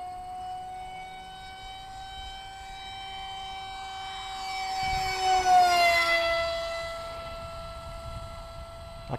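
A radio-controlled model MiG airplane flies with a steady, tonal engine whine that swells as it passes close around the middle and then bends lower in pitch as it moves away; no one speaks.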